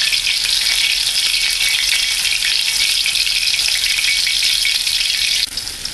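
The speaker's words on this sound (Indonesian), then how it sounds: "Nah, pertama kita menggoreng tahu dulu ya." Tofu frying in hot oil in a home kitchen for fried bean sprouts, a steady loud sizzle with a faint rattle near the end.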